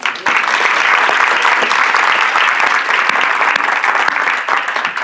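A church congregation breaks into sustained, dense applause that stays loud and steady for several seconds before tapering slightly at the end.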